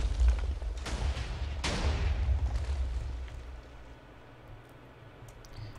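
Meteors explode in Minecraft with the Mystcraft mod: a couple of sharp, muffled booms burst over a steady low rumble, which then fades to a quieter hum.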